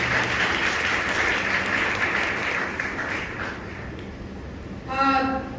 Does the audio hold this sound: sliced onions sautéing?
no